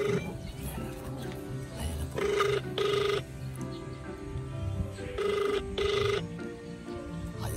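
An outgoing phone call rings back through a handset, with two double-pulse ring tones repeating at a steady interval over faint background noise.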